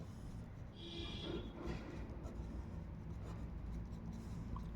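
Pen writing on paper during a maths lesson, faint close scratching strokes that continue steadily at low level, with no talking.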